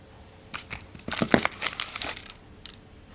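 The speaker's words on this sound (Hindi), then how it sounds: "तो ये इसका मैंने रैपर हटा दिया है।" A Dairy Milk Silk chocolate wrapper is peeled away by hand, giving a short burst of close crinkling and crackling foil and plastic that peaks in the middle and then fades into a faint last rustle.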